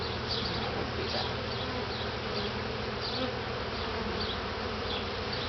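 Honeybees swarming around an open top bar hive during a honey harvest, a dense continuous close buzz with individual bees flying past the microphone, no talking.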